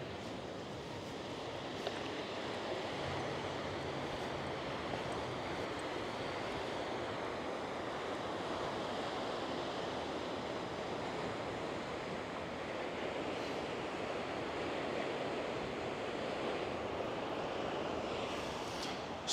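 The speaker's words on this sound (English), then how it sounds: "we will be back at the sea coastline and on the beach" Steady surf rolls onto a beach at Malia, Crete, a continuous broad wash of breaking waves mixed with wind, with no voices over it.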